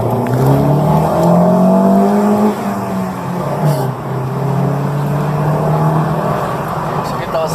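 A car revs and accelerates hard during a Brazilian street race, engine harmonics rising and falling loudly and close, with voices talking over the engine throughout.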